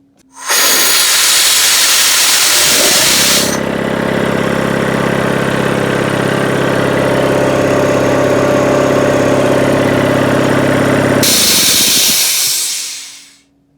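An SO-7B air compressor runs loud and steady for about ten seconds while pumping up pressure, starting with a sharp hissing burst and ending with another hiss as it winds down and stops.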